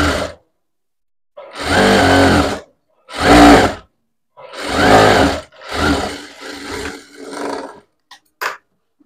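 A domestic sewing machine stitches a blouse seam in several bursts of whirring motor and needle, each lasting about a second, separated by short pauses. The final bursts come shorter and choppier.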